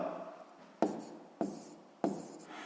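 Handwriting on paper during a sixth-grade maths exercise: three sharp pen taps with short scratchy strokes between them, close and quiet, with no voice.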